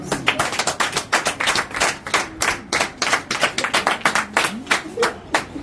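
Rhythmic clapping from a crowd at a dowry ceremony in Parakou, Benin, sharp regular hand claps in a steady beat, with voices faintly underneath.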